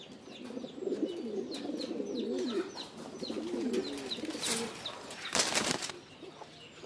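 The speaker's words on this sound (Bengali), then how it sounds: "এই হলো নর কবুতরটা" A large male pigeon coos repeatedly in low throaty rolls, close by. Twittering chirps from other birds sit behind it, and a burst of wing flapping comes near the end.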